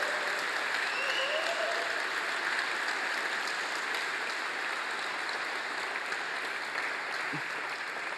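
A large conference keynote crowd gives the volunteers sustained applause, a dense, even roar of clapping lasting around eight seconds with only a slight easing toward the end.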